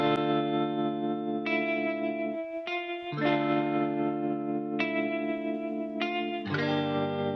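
A lofi chord progression with a programmed melody on top runs through a pitch dropout effect plugin, so sustained synth tones slide and wobble in pitch between chord changes. The music plays on its own with no voices.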